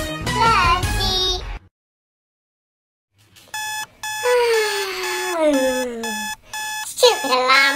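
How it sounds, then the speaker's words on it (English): An alarm clock rings with loud, repeated electronic beeping in bursts, set in a Roblox cartoon scene and preceded by a child's sung theme tune. "Stupid alarm clock."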